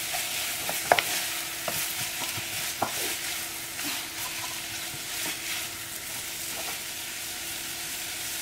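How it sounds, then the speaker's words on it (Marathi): Onions sautéing in hot oil for a Goan prawn and potato ambot tik, a steady crackling sizzle with occasional spoon taps and stirring strokes, close and even throughout. "ऑयल गरम जाले. कांदे घालया आनी आमी सॉटे करूया."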